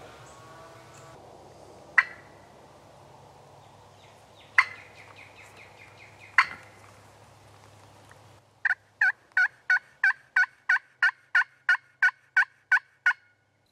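Sharp, distant wild turkey gobbles ring out a few times from a field's hardwood bottom, followed by a regular series of close, evenly spaced high yelping calls.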